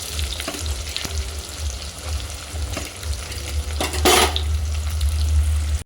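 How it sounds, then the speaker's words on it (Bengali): Onions for a mutton curry fry in oil, a constant close sizzle with scattered scraping and clinks of a spatula against the pan, one louder metallic scrape near the end. "এবার একে একে পেঁয়াজগুলো সব দিয়ে দেবো।"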